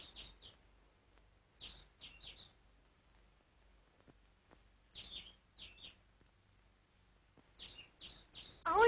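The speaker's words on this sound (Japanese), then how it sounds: "青い鳥がいるわ。" A pet blue parakeet chirps in short, quick clusters of high tweets separated by quiet pauses, fairly close and clear over faint background noise in an old 1942 film soundtrack.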